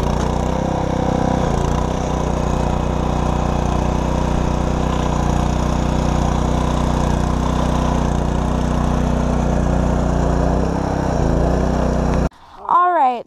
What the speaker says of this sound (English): So we're done with the rototiller.